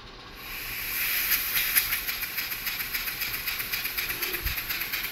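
A Maudslay model steam engine runs slowly on compressed air with a slight flywheel wobble, producing a hiss that builds into a steady, rhythmic series of soft chuffs, close and alone.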